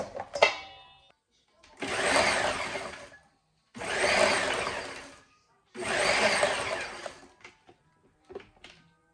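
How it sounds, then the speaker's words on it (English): Food processor pulsing raw cauliflower florets into small rice-like bits: three loud whirring bursts of about two seconds each, separated by short pauses, with a few clicks and rattles around them. "I'm going to just pulsate these into little bits of cauliflower"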